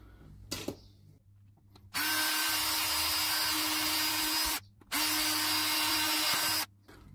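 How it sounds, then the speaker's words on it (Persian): An electric drill bores into an LED lamp housing in two sustained bursts of high whining, each about two and a half seconds long, close and loud, separated by a short pause, with a faint click just before. "این سوراخ سوراخ سیم بود که ذره گشاد زدم، ولی سوراخ پیجا رو باید یه سوراخ ریز بزنم"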